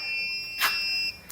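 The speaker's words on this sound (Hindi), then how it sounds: "इसने बीप भी दे दिया कि वोल्टेज जो वापडा की आ गई है" A Galaxy Inverex inverter in a 6kW home solar system gives a steady high electronic beep as grid power connects. The tone holds for about a second with a brief burst of noise partway through. No one speaks.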